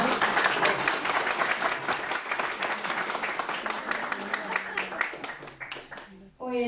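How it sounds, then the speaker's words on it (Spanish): An audience at a tribute event applauds the honoree, poet and essayist Luz Mary Giraldo, with loud, dense clapping that fades near the end as a voice begins speaking. "quiero invitarlos a recibir con un gran aplauso a nuestra homenajeada del día"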